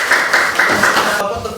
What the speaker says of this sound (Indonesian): Ya silakan, dulu tepuk tangan semua.